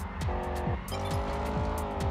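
A car sliding in the racing game Test Drive Unlimited on PS2, with tires squealing over a loud engine that revs and shifts up through the gears repeatedly, close and continuous.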